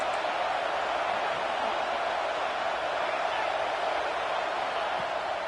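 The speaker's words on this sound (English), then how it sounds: "Decibels rising as the crowd gets behind this defense on third down." A college football stadium crowd roars steadily and loudly during a defensive third down. The dense, continuous noise holds throughout with no break.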